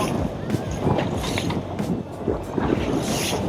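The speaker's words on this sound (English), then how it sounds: "It's pretty windy." Strong wind roars and buffets the microphone on rough open ocean in a steady, gusting rush, with low rumbling underneath.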